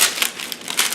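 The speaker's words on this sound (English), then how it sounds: "And then you lift your chicken Parmesan off the parchment paper that works so beautifully." Parchment paper crinkling as a baked chicken parmesan is lifted off it, a short close burst of dry rustling and crackling lasting about a second.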